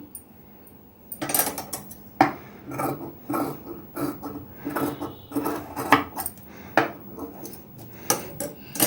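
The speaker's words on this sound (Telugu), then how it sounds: "ఇది ఒక్కటి మనం కొంచెం కట్ చేసుకుందాం" Scissors trim lining blouse fabric to size, giving a steady run of close, crisp snips and soft rustling at a regular rhythm, with no talking.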